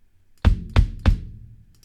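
Three punchy synthesized kick drum hits from the oyster kick preset in the Modo Drum virtual instrument, evenly spaced and close, each with a deep thump and short decaying tail, no voices.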